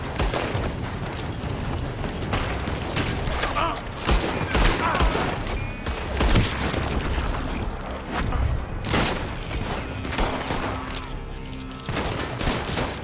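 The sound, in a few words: gunfire from building in video game Red Dead Redemption II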